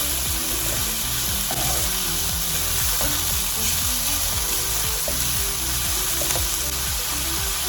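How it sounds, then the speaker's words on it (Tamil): White beech mushrooms fry in a pan for mushroom fried rice, giving a loud, steady sizzle with stirring and scraping sounds mixed in. "ஒயிட் பீச் மஷ்ரூம்ஸை இதில் போடணும்"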